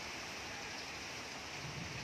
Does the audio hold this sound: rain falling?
yes